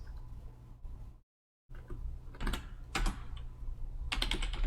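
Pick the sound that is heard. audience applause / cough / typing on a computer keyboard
typing on a computer keyboard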